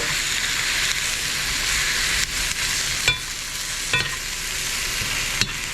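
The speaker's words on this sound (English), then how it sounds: "I'm stirring it so that they don't burn, but that they get definitely brown." Almonds and sesame seeds roasting in a frying pan under a steady dry sizzling hiss, with a few distinct spatula scrapes and knocks against the pan, no voices.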